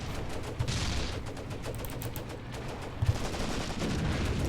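Rapid small-arms and machine-gun fire aimed at an anti-tank gun in the Graviteam Tactics war game, a steady crackle of shots with a few louder reports at a distance.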